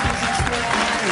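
Brief burst of applause for a singer from a studio audience on a French talk show, a dense steady clatter of clapping with a faint murmur of voices underneath.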